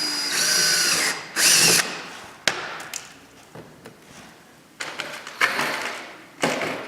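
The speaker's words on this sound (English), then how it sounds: "then I go and drill the next one" Several bursts of power drilling holes for rivets while installing air vents, each a loud whine lasting a second or so, separated by short clanks and quiet handling noises.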